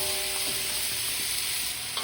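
Leeks, celery and carrots stirred in a sizzling frying pan alongside pork loin, a constant close frying hiss with soft scraping stirs layered over it.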